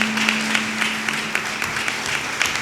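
A seated audience at a Hindi poetry event claps for the sponsors, producing a short, steady patter of applause with a low electrical hum underneath.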